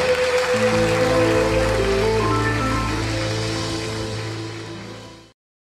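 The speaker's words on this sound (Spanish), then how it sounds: "Dale el aplauso más lindo a nuestro Señor." A church congregation applauding during a worship service, a broad steady wash of clapping under sustained musical tones, holding level and then tapering off before cutting out.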